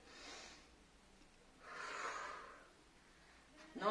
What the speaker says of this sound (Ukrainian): Піднімаємо ручки догори вдих, видих.